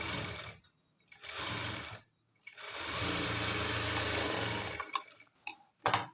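A sewing machine stitches a belt cloth in several bursts of rapid mechanical whirring, short runs separated by pauses and then a longer continuous run, followed by a few brief clicks.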